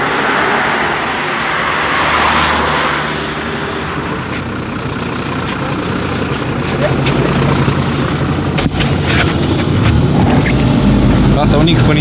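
A city bus idles with a steady low engine drone and traffic around it. A sharp hiss of its air brakes bursts out near the end, and voices talk faintly underneath.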